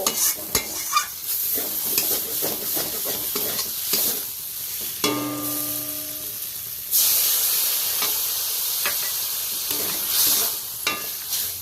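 Water poured into sizzling fried spices for a rohu fish curry with potato and onion greens, giving a burst of loud hissing, bubbling steam with stirring clatter, then settling into steady simmering sizzle.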